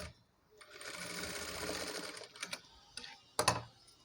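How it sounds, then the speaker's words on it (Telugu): A sewing machine stitches saree fabric, running with a steady whirring hum for about two seconds before stopping, followed by a few short clicks and rustles from handling the cloth, all close and quiet. "ఇలా సెట్ చేసుకొని స్టిచ్ చేసుకోవాలండి."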